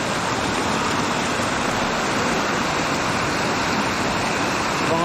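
A swollen river too large to wade across rushes loudly nearby, a steady, thick roar of churning water that holds at one level throughout.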